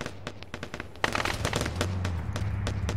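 A vehicle in an Arma game fires its weapon, with rapid sharp pops and bursts of gunfire rattling out in quick succession, moderately distant over a low engine rumble.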